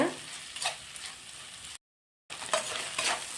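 Chicken, vegetables and egg frying in oil for fried rice give a steady, close sizzling hiss with faint stirring scrapes, broken by a brief stretch of total silence before the sizzle resumes.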